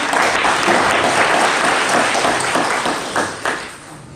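A crowd applauding loudly and steadily at a retirement ceremony, the clapping thinning out and fading in the last second.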